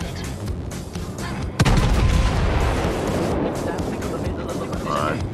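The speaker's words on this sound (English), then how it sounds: "Why am I firing AP at a destroyer?" A battleship in World of Warships fires an armour-piercing salvo with one loud, deep boom, and a long rumbling roar lingers after it over continuous engine and sea noise.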